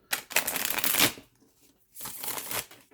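A tarot card deck is shuffled by hand in two quick bursts of crisp riffling flutter, close and loud, with a brief pause between.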